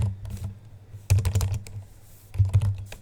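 Keystrokes on a computer keyboard as a command is typed in Windows 11, coming in two quick clustered bursts of close, crisp clicks with a pause between them.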